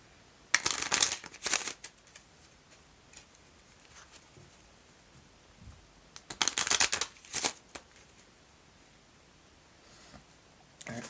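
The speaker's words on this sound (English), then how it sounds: "I'm going to get a couple cards from this deck." A deck of tarot cards being shuffled by hand, with two bursts of crisp riffling and flapping close by, separated by quieter pauses with occasional light taps, and no speech.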